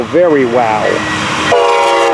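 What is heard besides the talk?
train passing by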